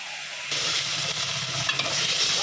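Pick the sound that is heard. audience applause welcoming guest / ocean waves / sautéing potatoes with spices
sautéing potatoes with spices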